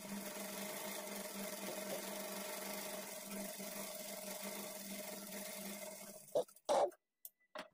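A sewing machine runs a continuous stitch along the edge of a high-neck blouse piece, a steady whirring hum that carries on for several seconds before stopping, followed by a few brief bumps.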